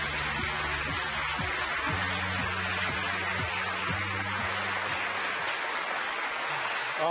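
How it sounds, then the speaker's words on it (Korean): Applause at a Korean government presentation event greets a committee chair as he comes up, a dense, even wash of clapping heard at a distance under a steady low hum for several seconds. "큰 박수 부탁드립니다."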